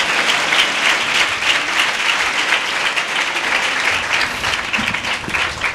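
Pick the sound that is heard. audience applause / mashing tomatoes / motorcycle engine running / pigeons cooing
audience applause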